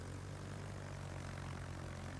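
A squadron of six aircraft drones overhead in the World of Warships naval game, a steady, unbroken propeller-engine hum that holds at an even level from start to finish with no voices.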